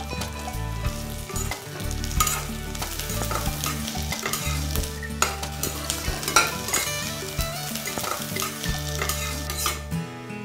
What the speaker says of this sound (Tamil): எண்ணெய் ஊத்தி அதுல வதக்க வேண்டியது வதக்கினா போதும்